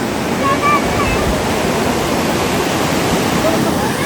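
Water rushes over a waterfall at a tourist spot, a loud, steady broadband roar heard close and continuous, with faint bird chirps above it.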